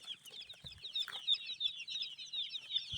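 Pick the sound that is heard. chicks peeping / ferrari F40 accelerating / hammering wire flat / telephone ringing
chicks peeping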